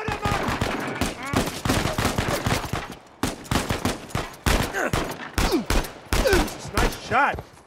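Rapid gunfire in Uncharted 4: A Thief's End, dense bursts of automatic shots and single cracks in quick succession, loud and near, with voices speaking between volleys.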